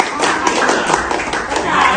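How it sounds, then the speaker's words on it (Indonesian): Classroom clapping for a student group at an Indonesian junior high school, a steady busy patter of many hands at close range with voices mixed in underneath. "Tepuk tangan untuk kelompok."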